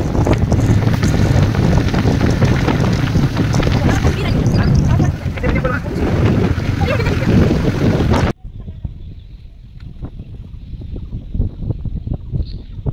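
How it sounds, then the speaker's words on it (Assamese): Breeze gusts steadily over a river near a village, buffeting the microphone with a loud continuous rushing roar that cuts off abruptly to a quieter, calmer stretch. "কি ধুনীয়া বতাহ"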